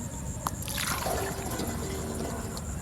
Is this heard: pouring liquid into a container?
yes